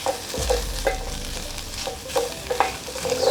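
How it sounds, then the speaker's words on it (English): Onions fry in a pot for a stew, a close crackling sizzle punctuated by several sharp spoon scrapes and knocks against the pot at irregular intervals. "now at least we want to have fried onions"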